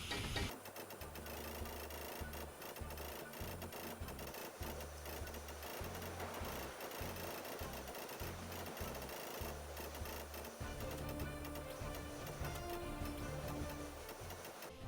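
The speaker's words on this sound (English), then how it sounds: "Upon completing those steps, you can now weld the rest of the table." Block welding in the video game Space Engineers, a dense mechanical buzzing and ticking that runs without a break the whole time, steady and moderately loud, with no speech.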